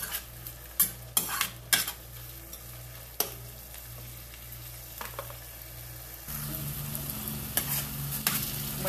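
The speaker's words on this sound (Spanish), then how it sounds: "Y ahora vamos a dejar que este jitomate se sazone bien con la cebolla." Chopped tomato sizzles in a pan with caramelized onion, a steady close fry punctuated by spoon scrapes and stirring knocks against the pan.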